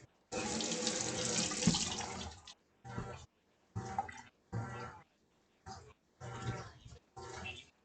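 Tap water runs into a sink while hands are washed with soap, first one long continuous stream, then several short bursts switched on and off in a stop-start rhythm, close and fairly quiet.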